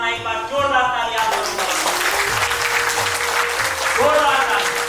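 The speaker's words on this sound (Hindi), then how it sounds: "एक बार जोरदार तालियां" An audience at an association's 25th-anniversary silver jubilee celebration bursts into loud, sustained applause while tonal music with a low rhythmic beat plays through the whole stretch.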